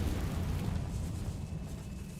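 A Confringo blasting spell in Hogwarts Legacy goes off as a loud, rumbling explosion that swells and then slowly fades, heavy and close, with no talking.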